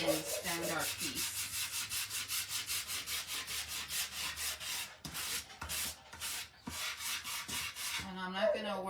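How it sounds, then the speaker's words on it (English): Sandpaper rubs back and forth over a rustic wooden decor piece in steady, close strokes, with brief pauses and a short stutter of scrubbing near the end. "I'm just gonna come in with my sandpaper, and we're gonna go ahead and sand our piece."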